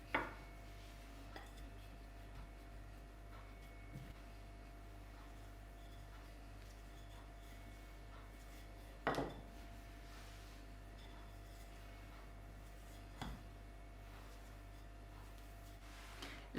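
A wooden rolling pin taps dough on a floured worktop: a few dull, isolated knocks spaced several seconds apart, faint against a quiet room with a low steady hum.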